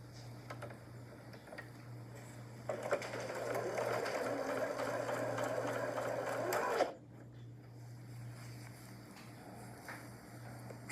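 A Janome sewing machine runs one steady burst of about four seconds joining patchwork pieces with a quarter-inch seam, close and clear over a constant low hum, then stops abruptly into quiet.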